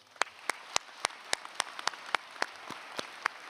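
A few people at a medical school convocation clap in a sparse, slow rhythm, individual claps ringing out distinctly over a quiet hall.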